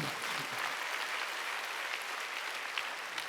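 Sustained applause from a church congregation during a worship service, even and continuous throughout with a dense clatter of many hands clapping.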